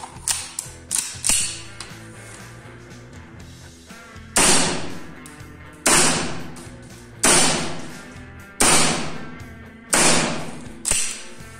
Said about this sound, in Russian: следующий у нас стрейкбольный пистолет калибром 6 мм на грингазе от Arby Armory